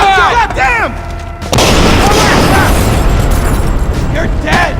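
A flash grenade goes off in a video game amid shouting voices: a sudden loud burst that rolls into a sustained noisy roar and ringing, with an agitated voice heard before it and again near the end.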